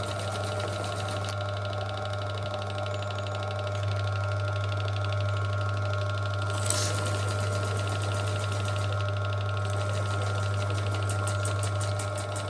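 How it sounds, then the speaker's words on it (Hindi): A sewing machine under adjustment runs continuously with a steady hum and fast rhythmic needle chatter, close and even throughout, as the needle's centering is checked. "सुई कहीं टकरा तो नहीं रही।"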